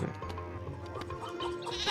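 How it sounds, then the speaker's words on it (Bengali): A goat bleats in the Meena video game, a few short nasal bleats heard close and clear over a steady game background, with no talking. "এই ছাগলটা কি জন্য যে আসে"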